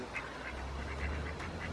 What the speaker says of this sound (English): Even the ducks are seeking shelter.